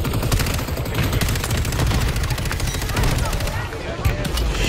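Distant sniper gunfire in Warzone 3 crackles under dense, continuous game noise and rumble, with repeated sharp reports blending into a busy battlefield mix.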